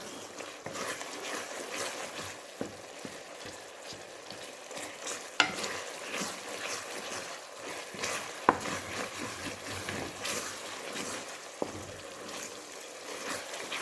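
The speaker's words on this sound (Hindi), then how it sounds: "थोड़ी देर मैं इसको और भून लेती हूँ।" Tomato masala for a cauliflower and potato sabzi frying in a pan, a soft continuous sizzle with occasional utensil taps and stirring scrapes, fairly quiet and close, no talking.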